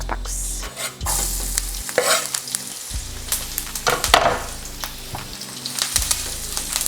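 Fresh, juicy onion sizzles loudly in a hot pan, with steady frying hiss broken by repeated scraping stirs of a utensil.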